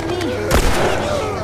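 Video-game gunfire from The Last of Us: a single sharp, heavy shot bursts out midway, standing above a busy background of game sound and ambient noise.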